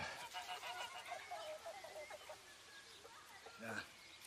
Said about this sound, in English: The goose is Carlos.